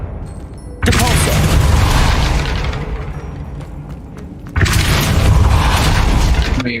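A Depulso spell cast in the Hogwarts Legacy video game comes as a sudden loud booming blast that rumbles for several seconds, fades, then a second equally loud burst follows, close and dense.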